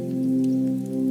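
Rain falls steadily outside a cozy pie shop, a soft continuous patter with a gentle hum beneath it, even and unbroken.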